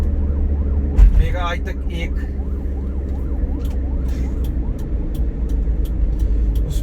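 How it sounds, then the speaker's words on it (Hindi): An ambulance siren wails steadily as it passes along a road, its rising and falling tone continuous over low traffic rumble. A voice speaks briefly near the start. "ये जैसा कि आपने देखा कि एक एम्बुलेंस जा रही थी"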